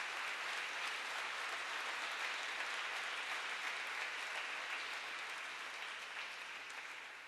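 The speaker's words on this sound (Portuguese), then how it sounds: "Vocês podem dar um aplauso a Jesus," A church congregation at an evening service applauds for Jesus, a broad wash of many hands clapping at a distance, steady and sustained before easing slightly at the end.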